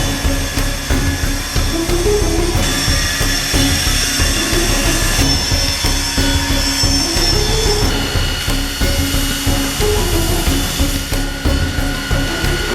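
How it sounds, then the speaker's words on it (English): Angle grinder grinding away welding on a metal plate during a sailboat boom rig repair in Greenland; a loud, continuous harsh grinding whine with shifting pitch and rhythmic pulsing runs through the whole stretch. "So what he's going to do is use a grinder to grind it away."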